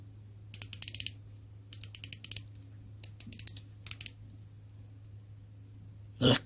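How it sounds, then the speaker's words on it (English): The rotating bezel of a Steeldive dive watch clicks through its ratchet in quick, crisp bursts of several clicks each, close and distinct over a low hum, with no talk. "Let's try the bezel action on it."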